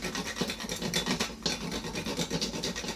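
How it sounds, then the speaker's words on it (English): Fresh whole nutmeg rubbed against a hand grater, a close, steady rasping scrape repeated in quick even strokes with no voices. "I like that taste of that fresh nutmeg, so I'm just gonna grate it"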